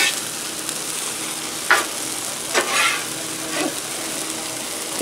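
Okra sizzles and fries on a Blackstone griddle, a constant close hiss broken by a few scraping stirs as it is turned, no talk.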